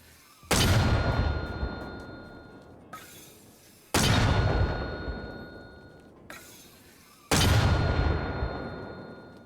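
A mortar in the game Arma Reforger fires smoke rounds one after another, each a loud deep boom with a long rolling tail and a faint metallic ring, three launches spaced about three seconds apart with no talking.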